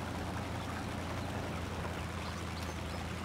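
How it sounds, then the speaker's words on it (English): Steady rushing roar of a waterfall and river rapids in the off-road driving game Spintires, a dense continuous wash of water noise filling the whole stretch without talk. "Oh, there's a waterfall."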